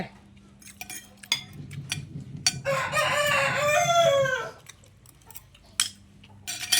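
A rooster crows once, a loud drawn-out call lasting nearly two seconds, amid sparse clinks of cutlery and dishes at a meal.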